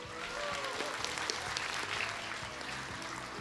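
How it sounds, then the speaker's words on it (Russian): A crowd at a pre-New Year children's fairy-tale festival claps warmly, a steady, fairly soft wash of applause with scattered louder individual claps throughout. "Давайте мы ее поприветствуем вашими добрыми предновогодними аплодисментами"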